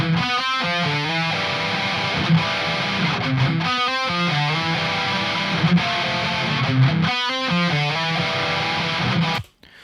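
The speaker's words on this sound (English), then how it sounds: "And finally, the STL Tones Tonehub." Heavy, distorted high-gain metal electric guitar through an STL Tones Tonehub amp sim plays chugging palm-muted riffs with sustained chords, loud and dry, stopping abruptly at the end.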